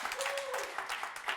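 A short burst of audience applause for a retiring longtime supervisor and executive producer of a show, a busy patter of clapping with a faint tone running beneath it.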